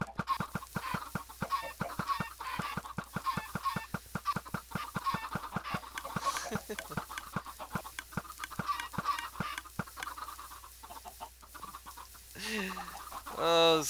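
Chickens cluck in a video game village, a quick run of regular, close clucks that keeps going steadily, with a few louder squawks near the end and occasional voices underneath.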